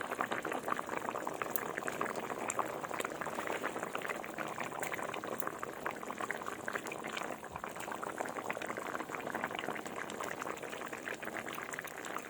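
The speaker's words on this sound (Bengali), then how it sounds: "এই দেখো বন্ধুরা, ঝোলটা ফুটে গেছে।" Fish curry gravy with boal fish bubbling at a steady rolling boil in a pot, a dense continuous hiss and popping simmer heard close up with no talk.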